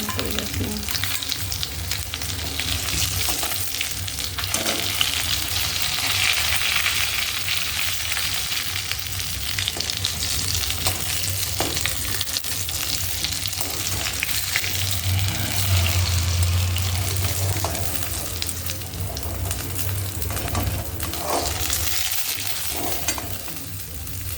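Rohu fish pieces coated in lentil batter fry in a pan with a steady, close sizzle throughout, joined by occasional scraping and light clatter, with no talking.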